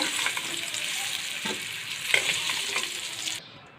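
Steady oil sizzle with bubbling crackle, close and continuous, with a few soft clinks as pumpkin pieces shift; it cuts out near the end.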